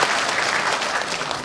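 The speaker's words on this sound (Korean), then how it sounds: "박수 한번 쳐주십시오" An audience at a talk show bursts into sustained applause, a dense, even wash of many hands clapping at once, fairly loud and unbroken from start to finish.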